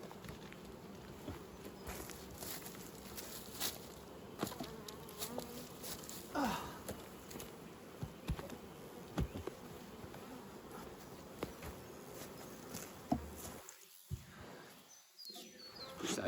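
Honeybees buzz continuously around an open nucleus hive, a faint steady hum with occasional handling knocks and rustles close by.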